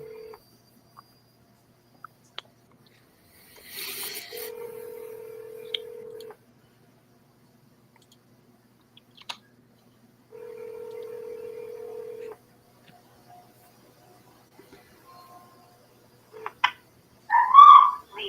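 Telephone keypad tones beep in a quick burst, followed by long gaps broken by two sustained ringback tones on an unanswered call, heard over an otherwise quiet line with a short electronic chirp at the end.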